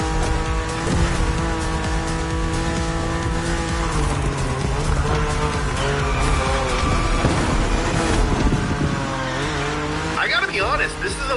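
A BMW M4 races in The Crew Motorfest, its engine roaring steadily with shifting pitch and tires squealing through skids, loud and close throughout.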